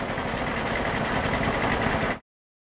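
A deep, throbbing tank engine built from a pitched-down oil pump layered with a truck engine rumbles steadily and densely for about two seconds before stopping abruptly, with no talk.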